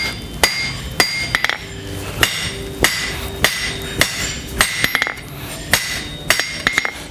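Hammer blows forging a copper spatula on an anvil ring out as a steady series of sharp, loud metallic strikes, roughly one to two per second, with quick doubled taps and bright ringing between the heavier hits.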